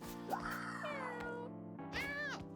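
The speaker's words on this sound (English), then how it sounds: "Ziz, our new Sphinx cat" A Sphynx cat in a video game meows twice, first a long drawn-out rising and falling meow, then a shorter bright one, loud and close over soft background music.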